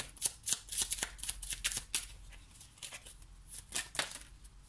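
A deck of oracle cards is shuffled by hand for a reading, giving repeated soft riffling and flicking strokes in an uneven rhythm, close and alone.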